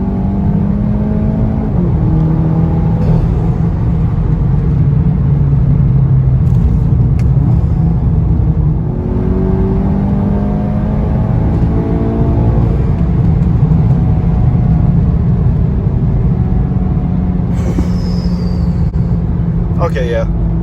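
A 340hp APR-tuned VW GTI accelerating hard from inside the cabin, a loud steady engine drone rising in pitch through the gears with a brief shift break, while people talk over it.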